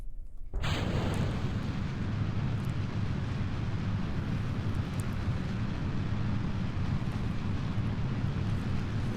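A rocket engine fires in Kerbal Space Program, starting abruptly as a loud, steady, deep roar that holds unbroken to the end.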